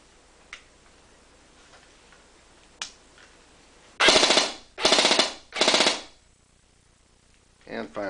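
Airsoft gun powered by a 7.4 V 1.674 LiPo battery firing three quick full-auto bursts, each a dense mechanical rattle of about a second, with faint clicks before and another burst starting at the end.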